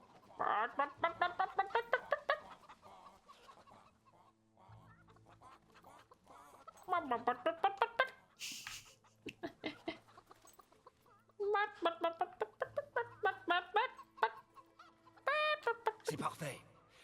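A person imitates a chicken with rapid rhythmic clucking in several long bursts, separated by short pauses, close and fairly loud, during gameplay of Fable III.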